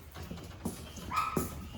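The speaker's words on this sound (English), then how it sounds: "The puppies are happy too. The puppies are happy. The puppies need to eat." Puppies whimper and yip in short, faint bursts, with a thin high whine near the end, set against quiet room background and no talk.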